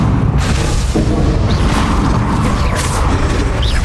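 Loud booming blasts from Bombarda and Confringo spells in the Hogwarts Legacy video game burst continuously amid dense magical combat effects.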